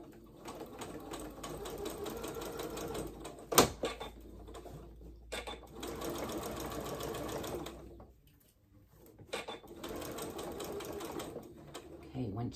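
Sewing machine stitching fabric during a garment sew-along, steady mechanical whirring runs broken by brief stops and a sharp clack, with a voice talking over parts of it.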